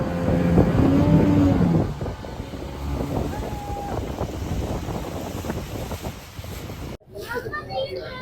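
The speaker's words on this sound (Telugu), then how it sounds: "స్పీడ్ బోట్కి వెళ్ళండి, ఆ థ్రిల్ మీరు ఫీల్ అవ్వాలి" A speedboat ride on Thatipudi reservoir brings a steady roar of engine and rushing water, with heavy wind buffeting the microphone. A person talks over it at the start, and the sound cuts off briefly near the end.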